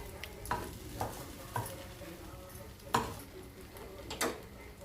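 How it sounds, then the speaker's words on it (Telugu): A spoon stirs hot upma in a pan on the stove, giving faint soft scrapes and several distinct clinks of utensil on metal at irregular intervals over a gentle sizzle. "ఇప్పుడంతా ఒకసారి బాగా మిక్స్ చేసుకొని స్టవ్ ఆఫ్ చేసుకుందాం"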